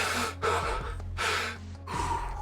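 A video game character gasps and breathes heavily in four loud, close, ragged breaths, each a sharp rush of air separated by brief pauses.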